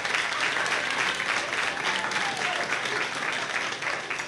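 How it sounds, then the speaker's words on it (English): A comedy club audience claps steadily for a stand-up comedian, a dense, even wash of hands that holds at full strength for the whole stretch, with a few faint voices mixed in. "50 and over, clap for me now"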